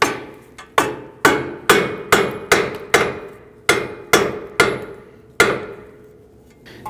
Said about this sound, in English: I'm going to go ahead and use my hammer and tap up on this.